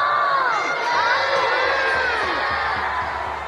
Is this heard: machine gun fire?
no